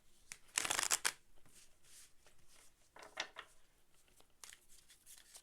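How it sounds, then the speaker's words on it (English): Tarot cards being shuffled by hand, a loud riffling burst followed by several quieter, irregular flicks and rustles of the deck, close up and with no talking. "Let me do some more shuffles just to be sure."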